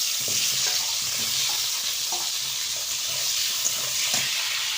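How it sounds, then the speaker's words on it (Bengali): Potatoes frying in oil in a wok, a dense continuous sizzle with soft scraping strokes as they are stirred, close and fairly loud. No talking. "এবার আলুটা লাল লাল করে ভেজে নেব।"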